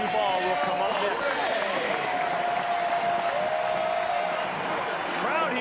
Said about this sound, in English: Crowd here very appreciative of what he did.